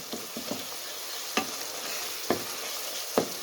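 Boiled moong dal goes into a pan of masala and tomatoes frying in oil, giving a soft, steady sizzle broken by several sharp scraping stirs of a spoon, close and moderately quiet.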